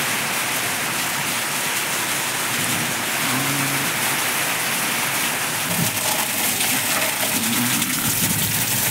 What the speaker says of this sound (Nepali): ल हेर्नु यहाँ यस्तो पानी परिरहेको छ कि बादल र भुइँ एउटै भर्छ